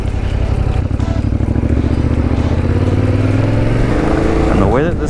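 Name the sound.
Yamaha Tenere adventure motorcycle riding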